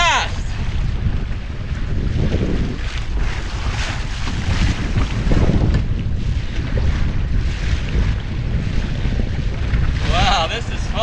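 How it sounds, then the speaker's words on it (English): Steady, loud wind roars across the microphone aboard a small Sunfish sailboat moving fast, with water rushing beneath the hull and brief voices half-buried in the gusts. "Now we're getting in the good wind."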